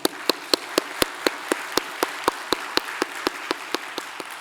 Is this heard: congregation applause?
yes